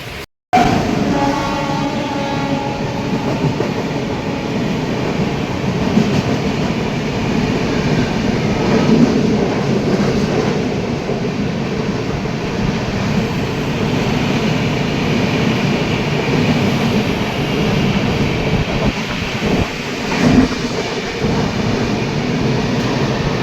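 Crowded Mumbai local train running, a steady loud rumble and rattle of carriages on rails for the whole stretch, with no speech.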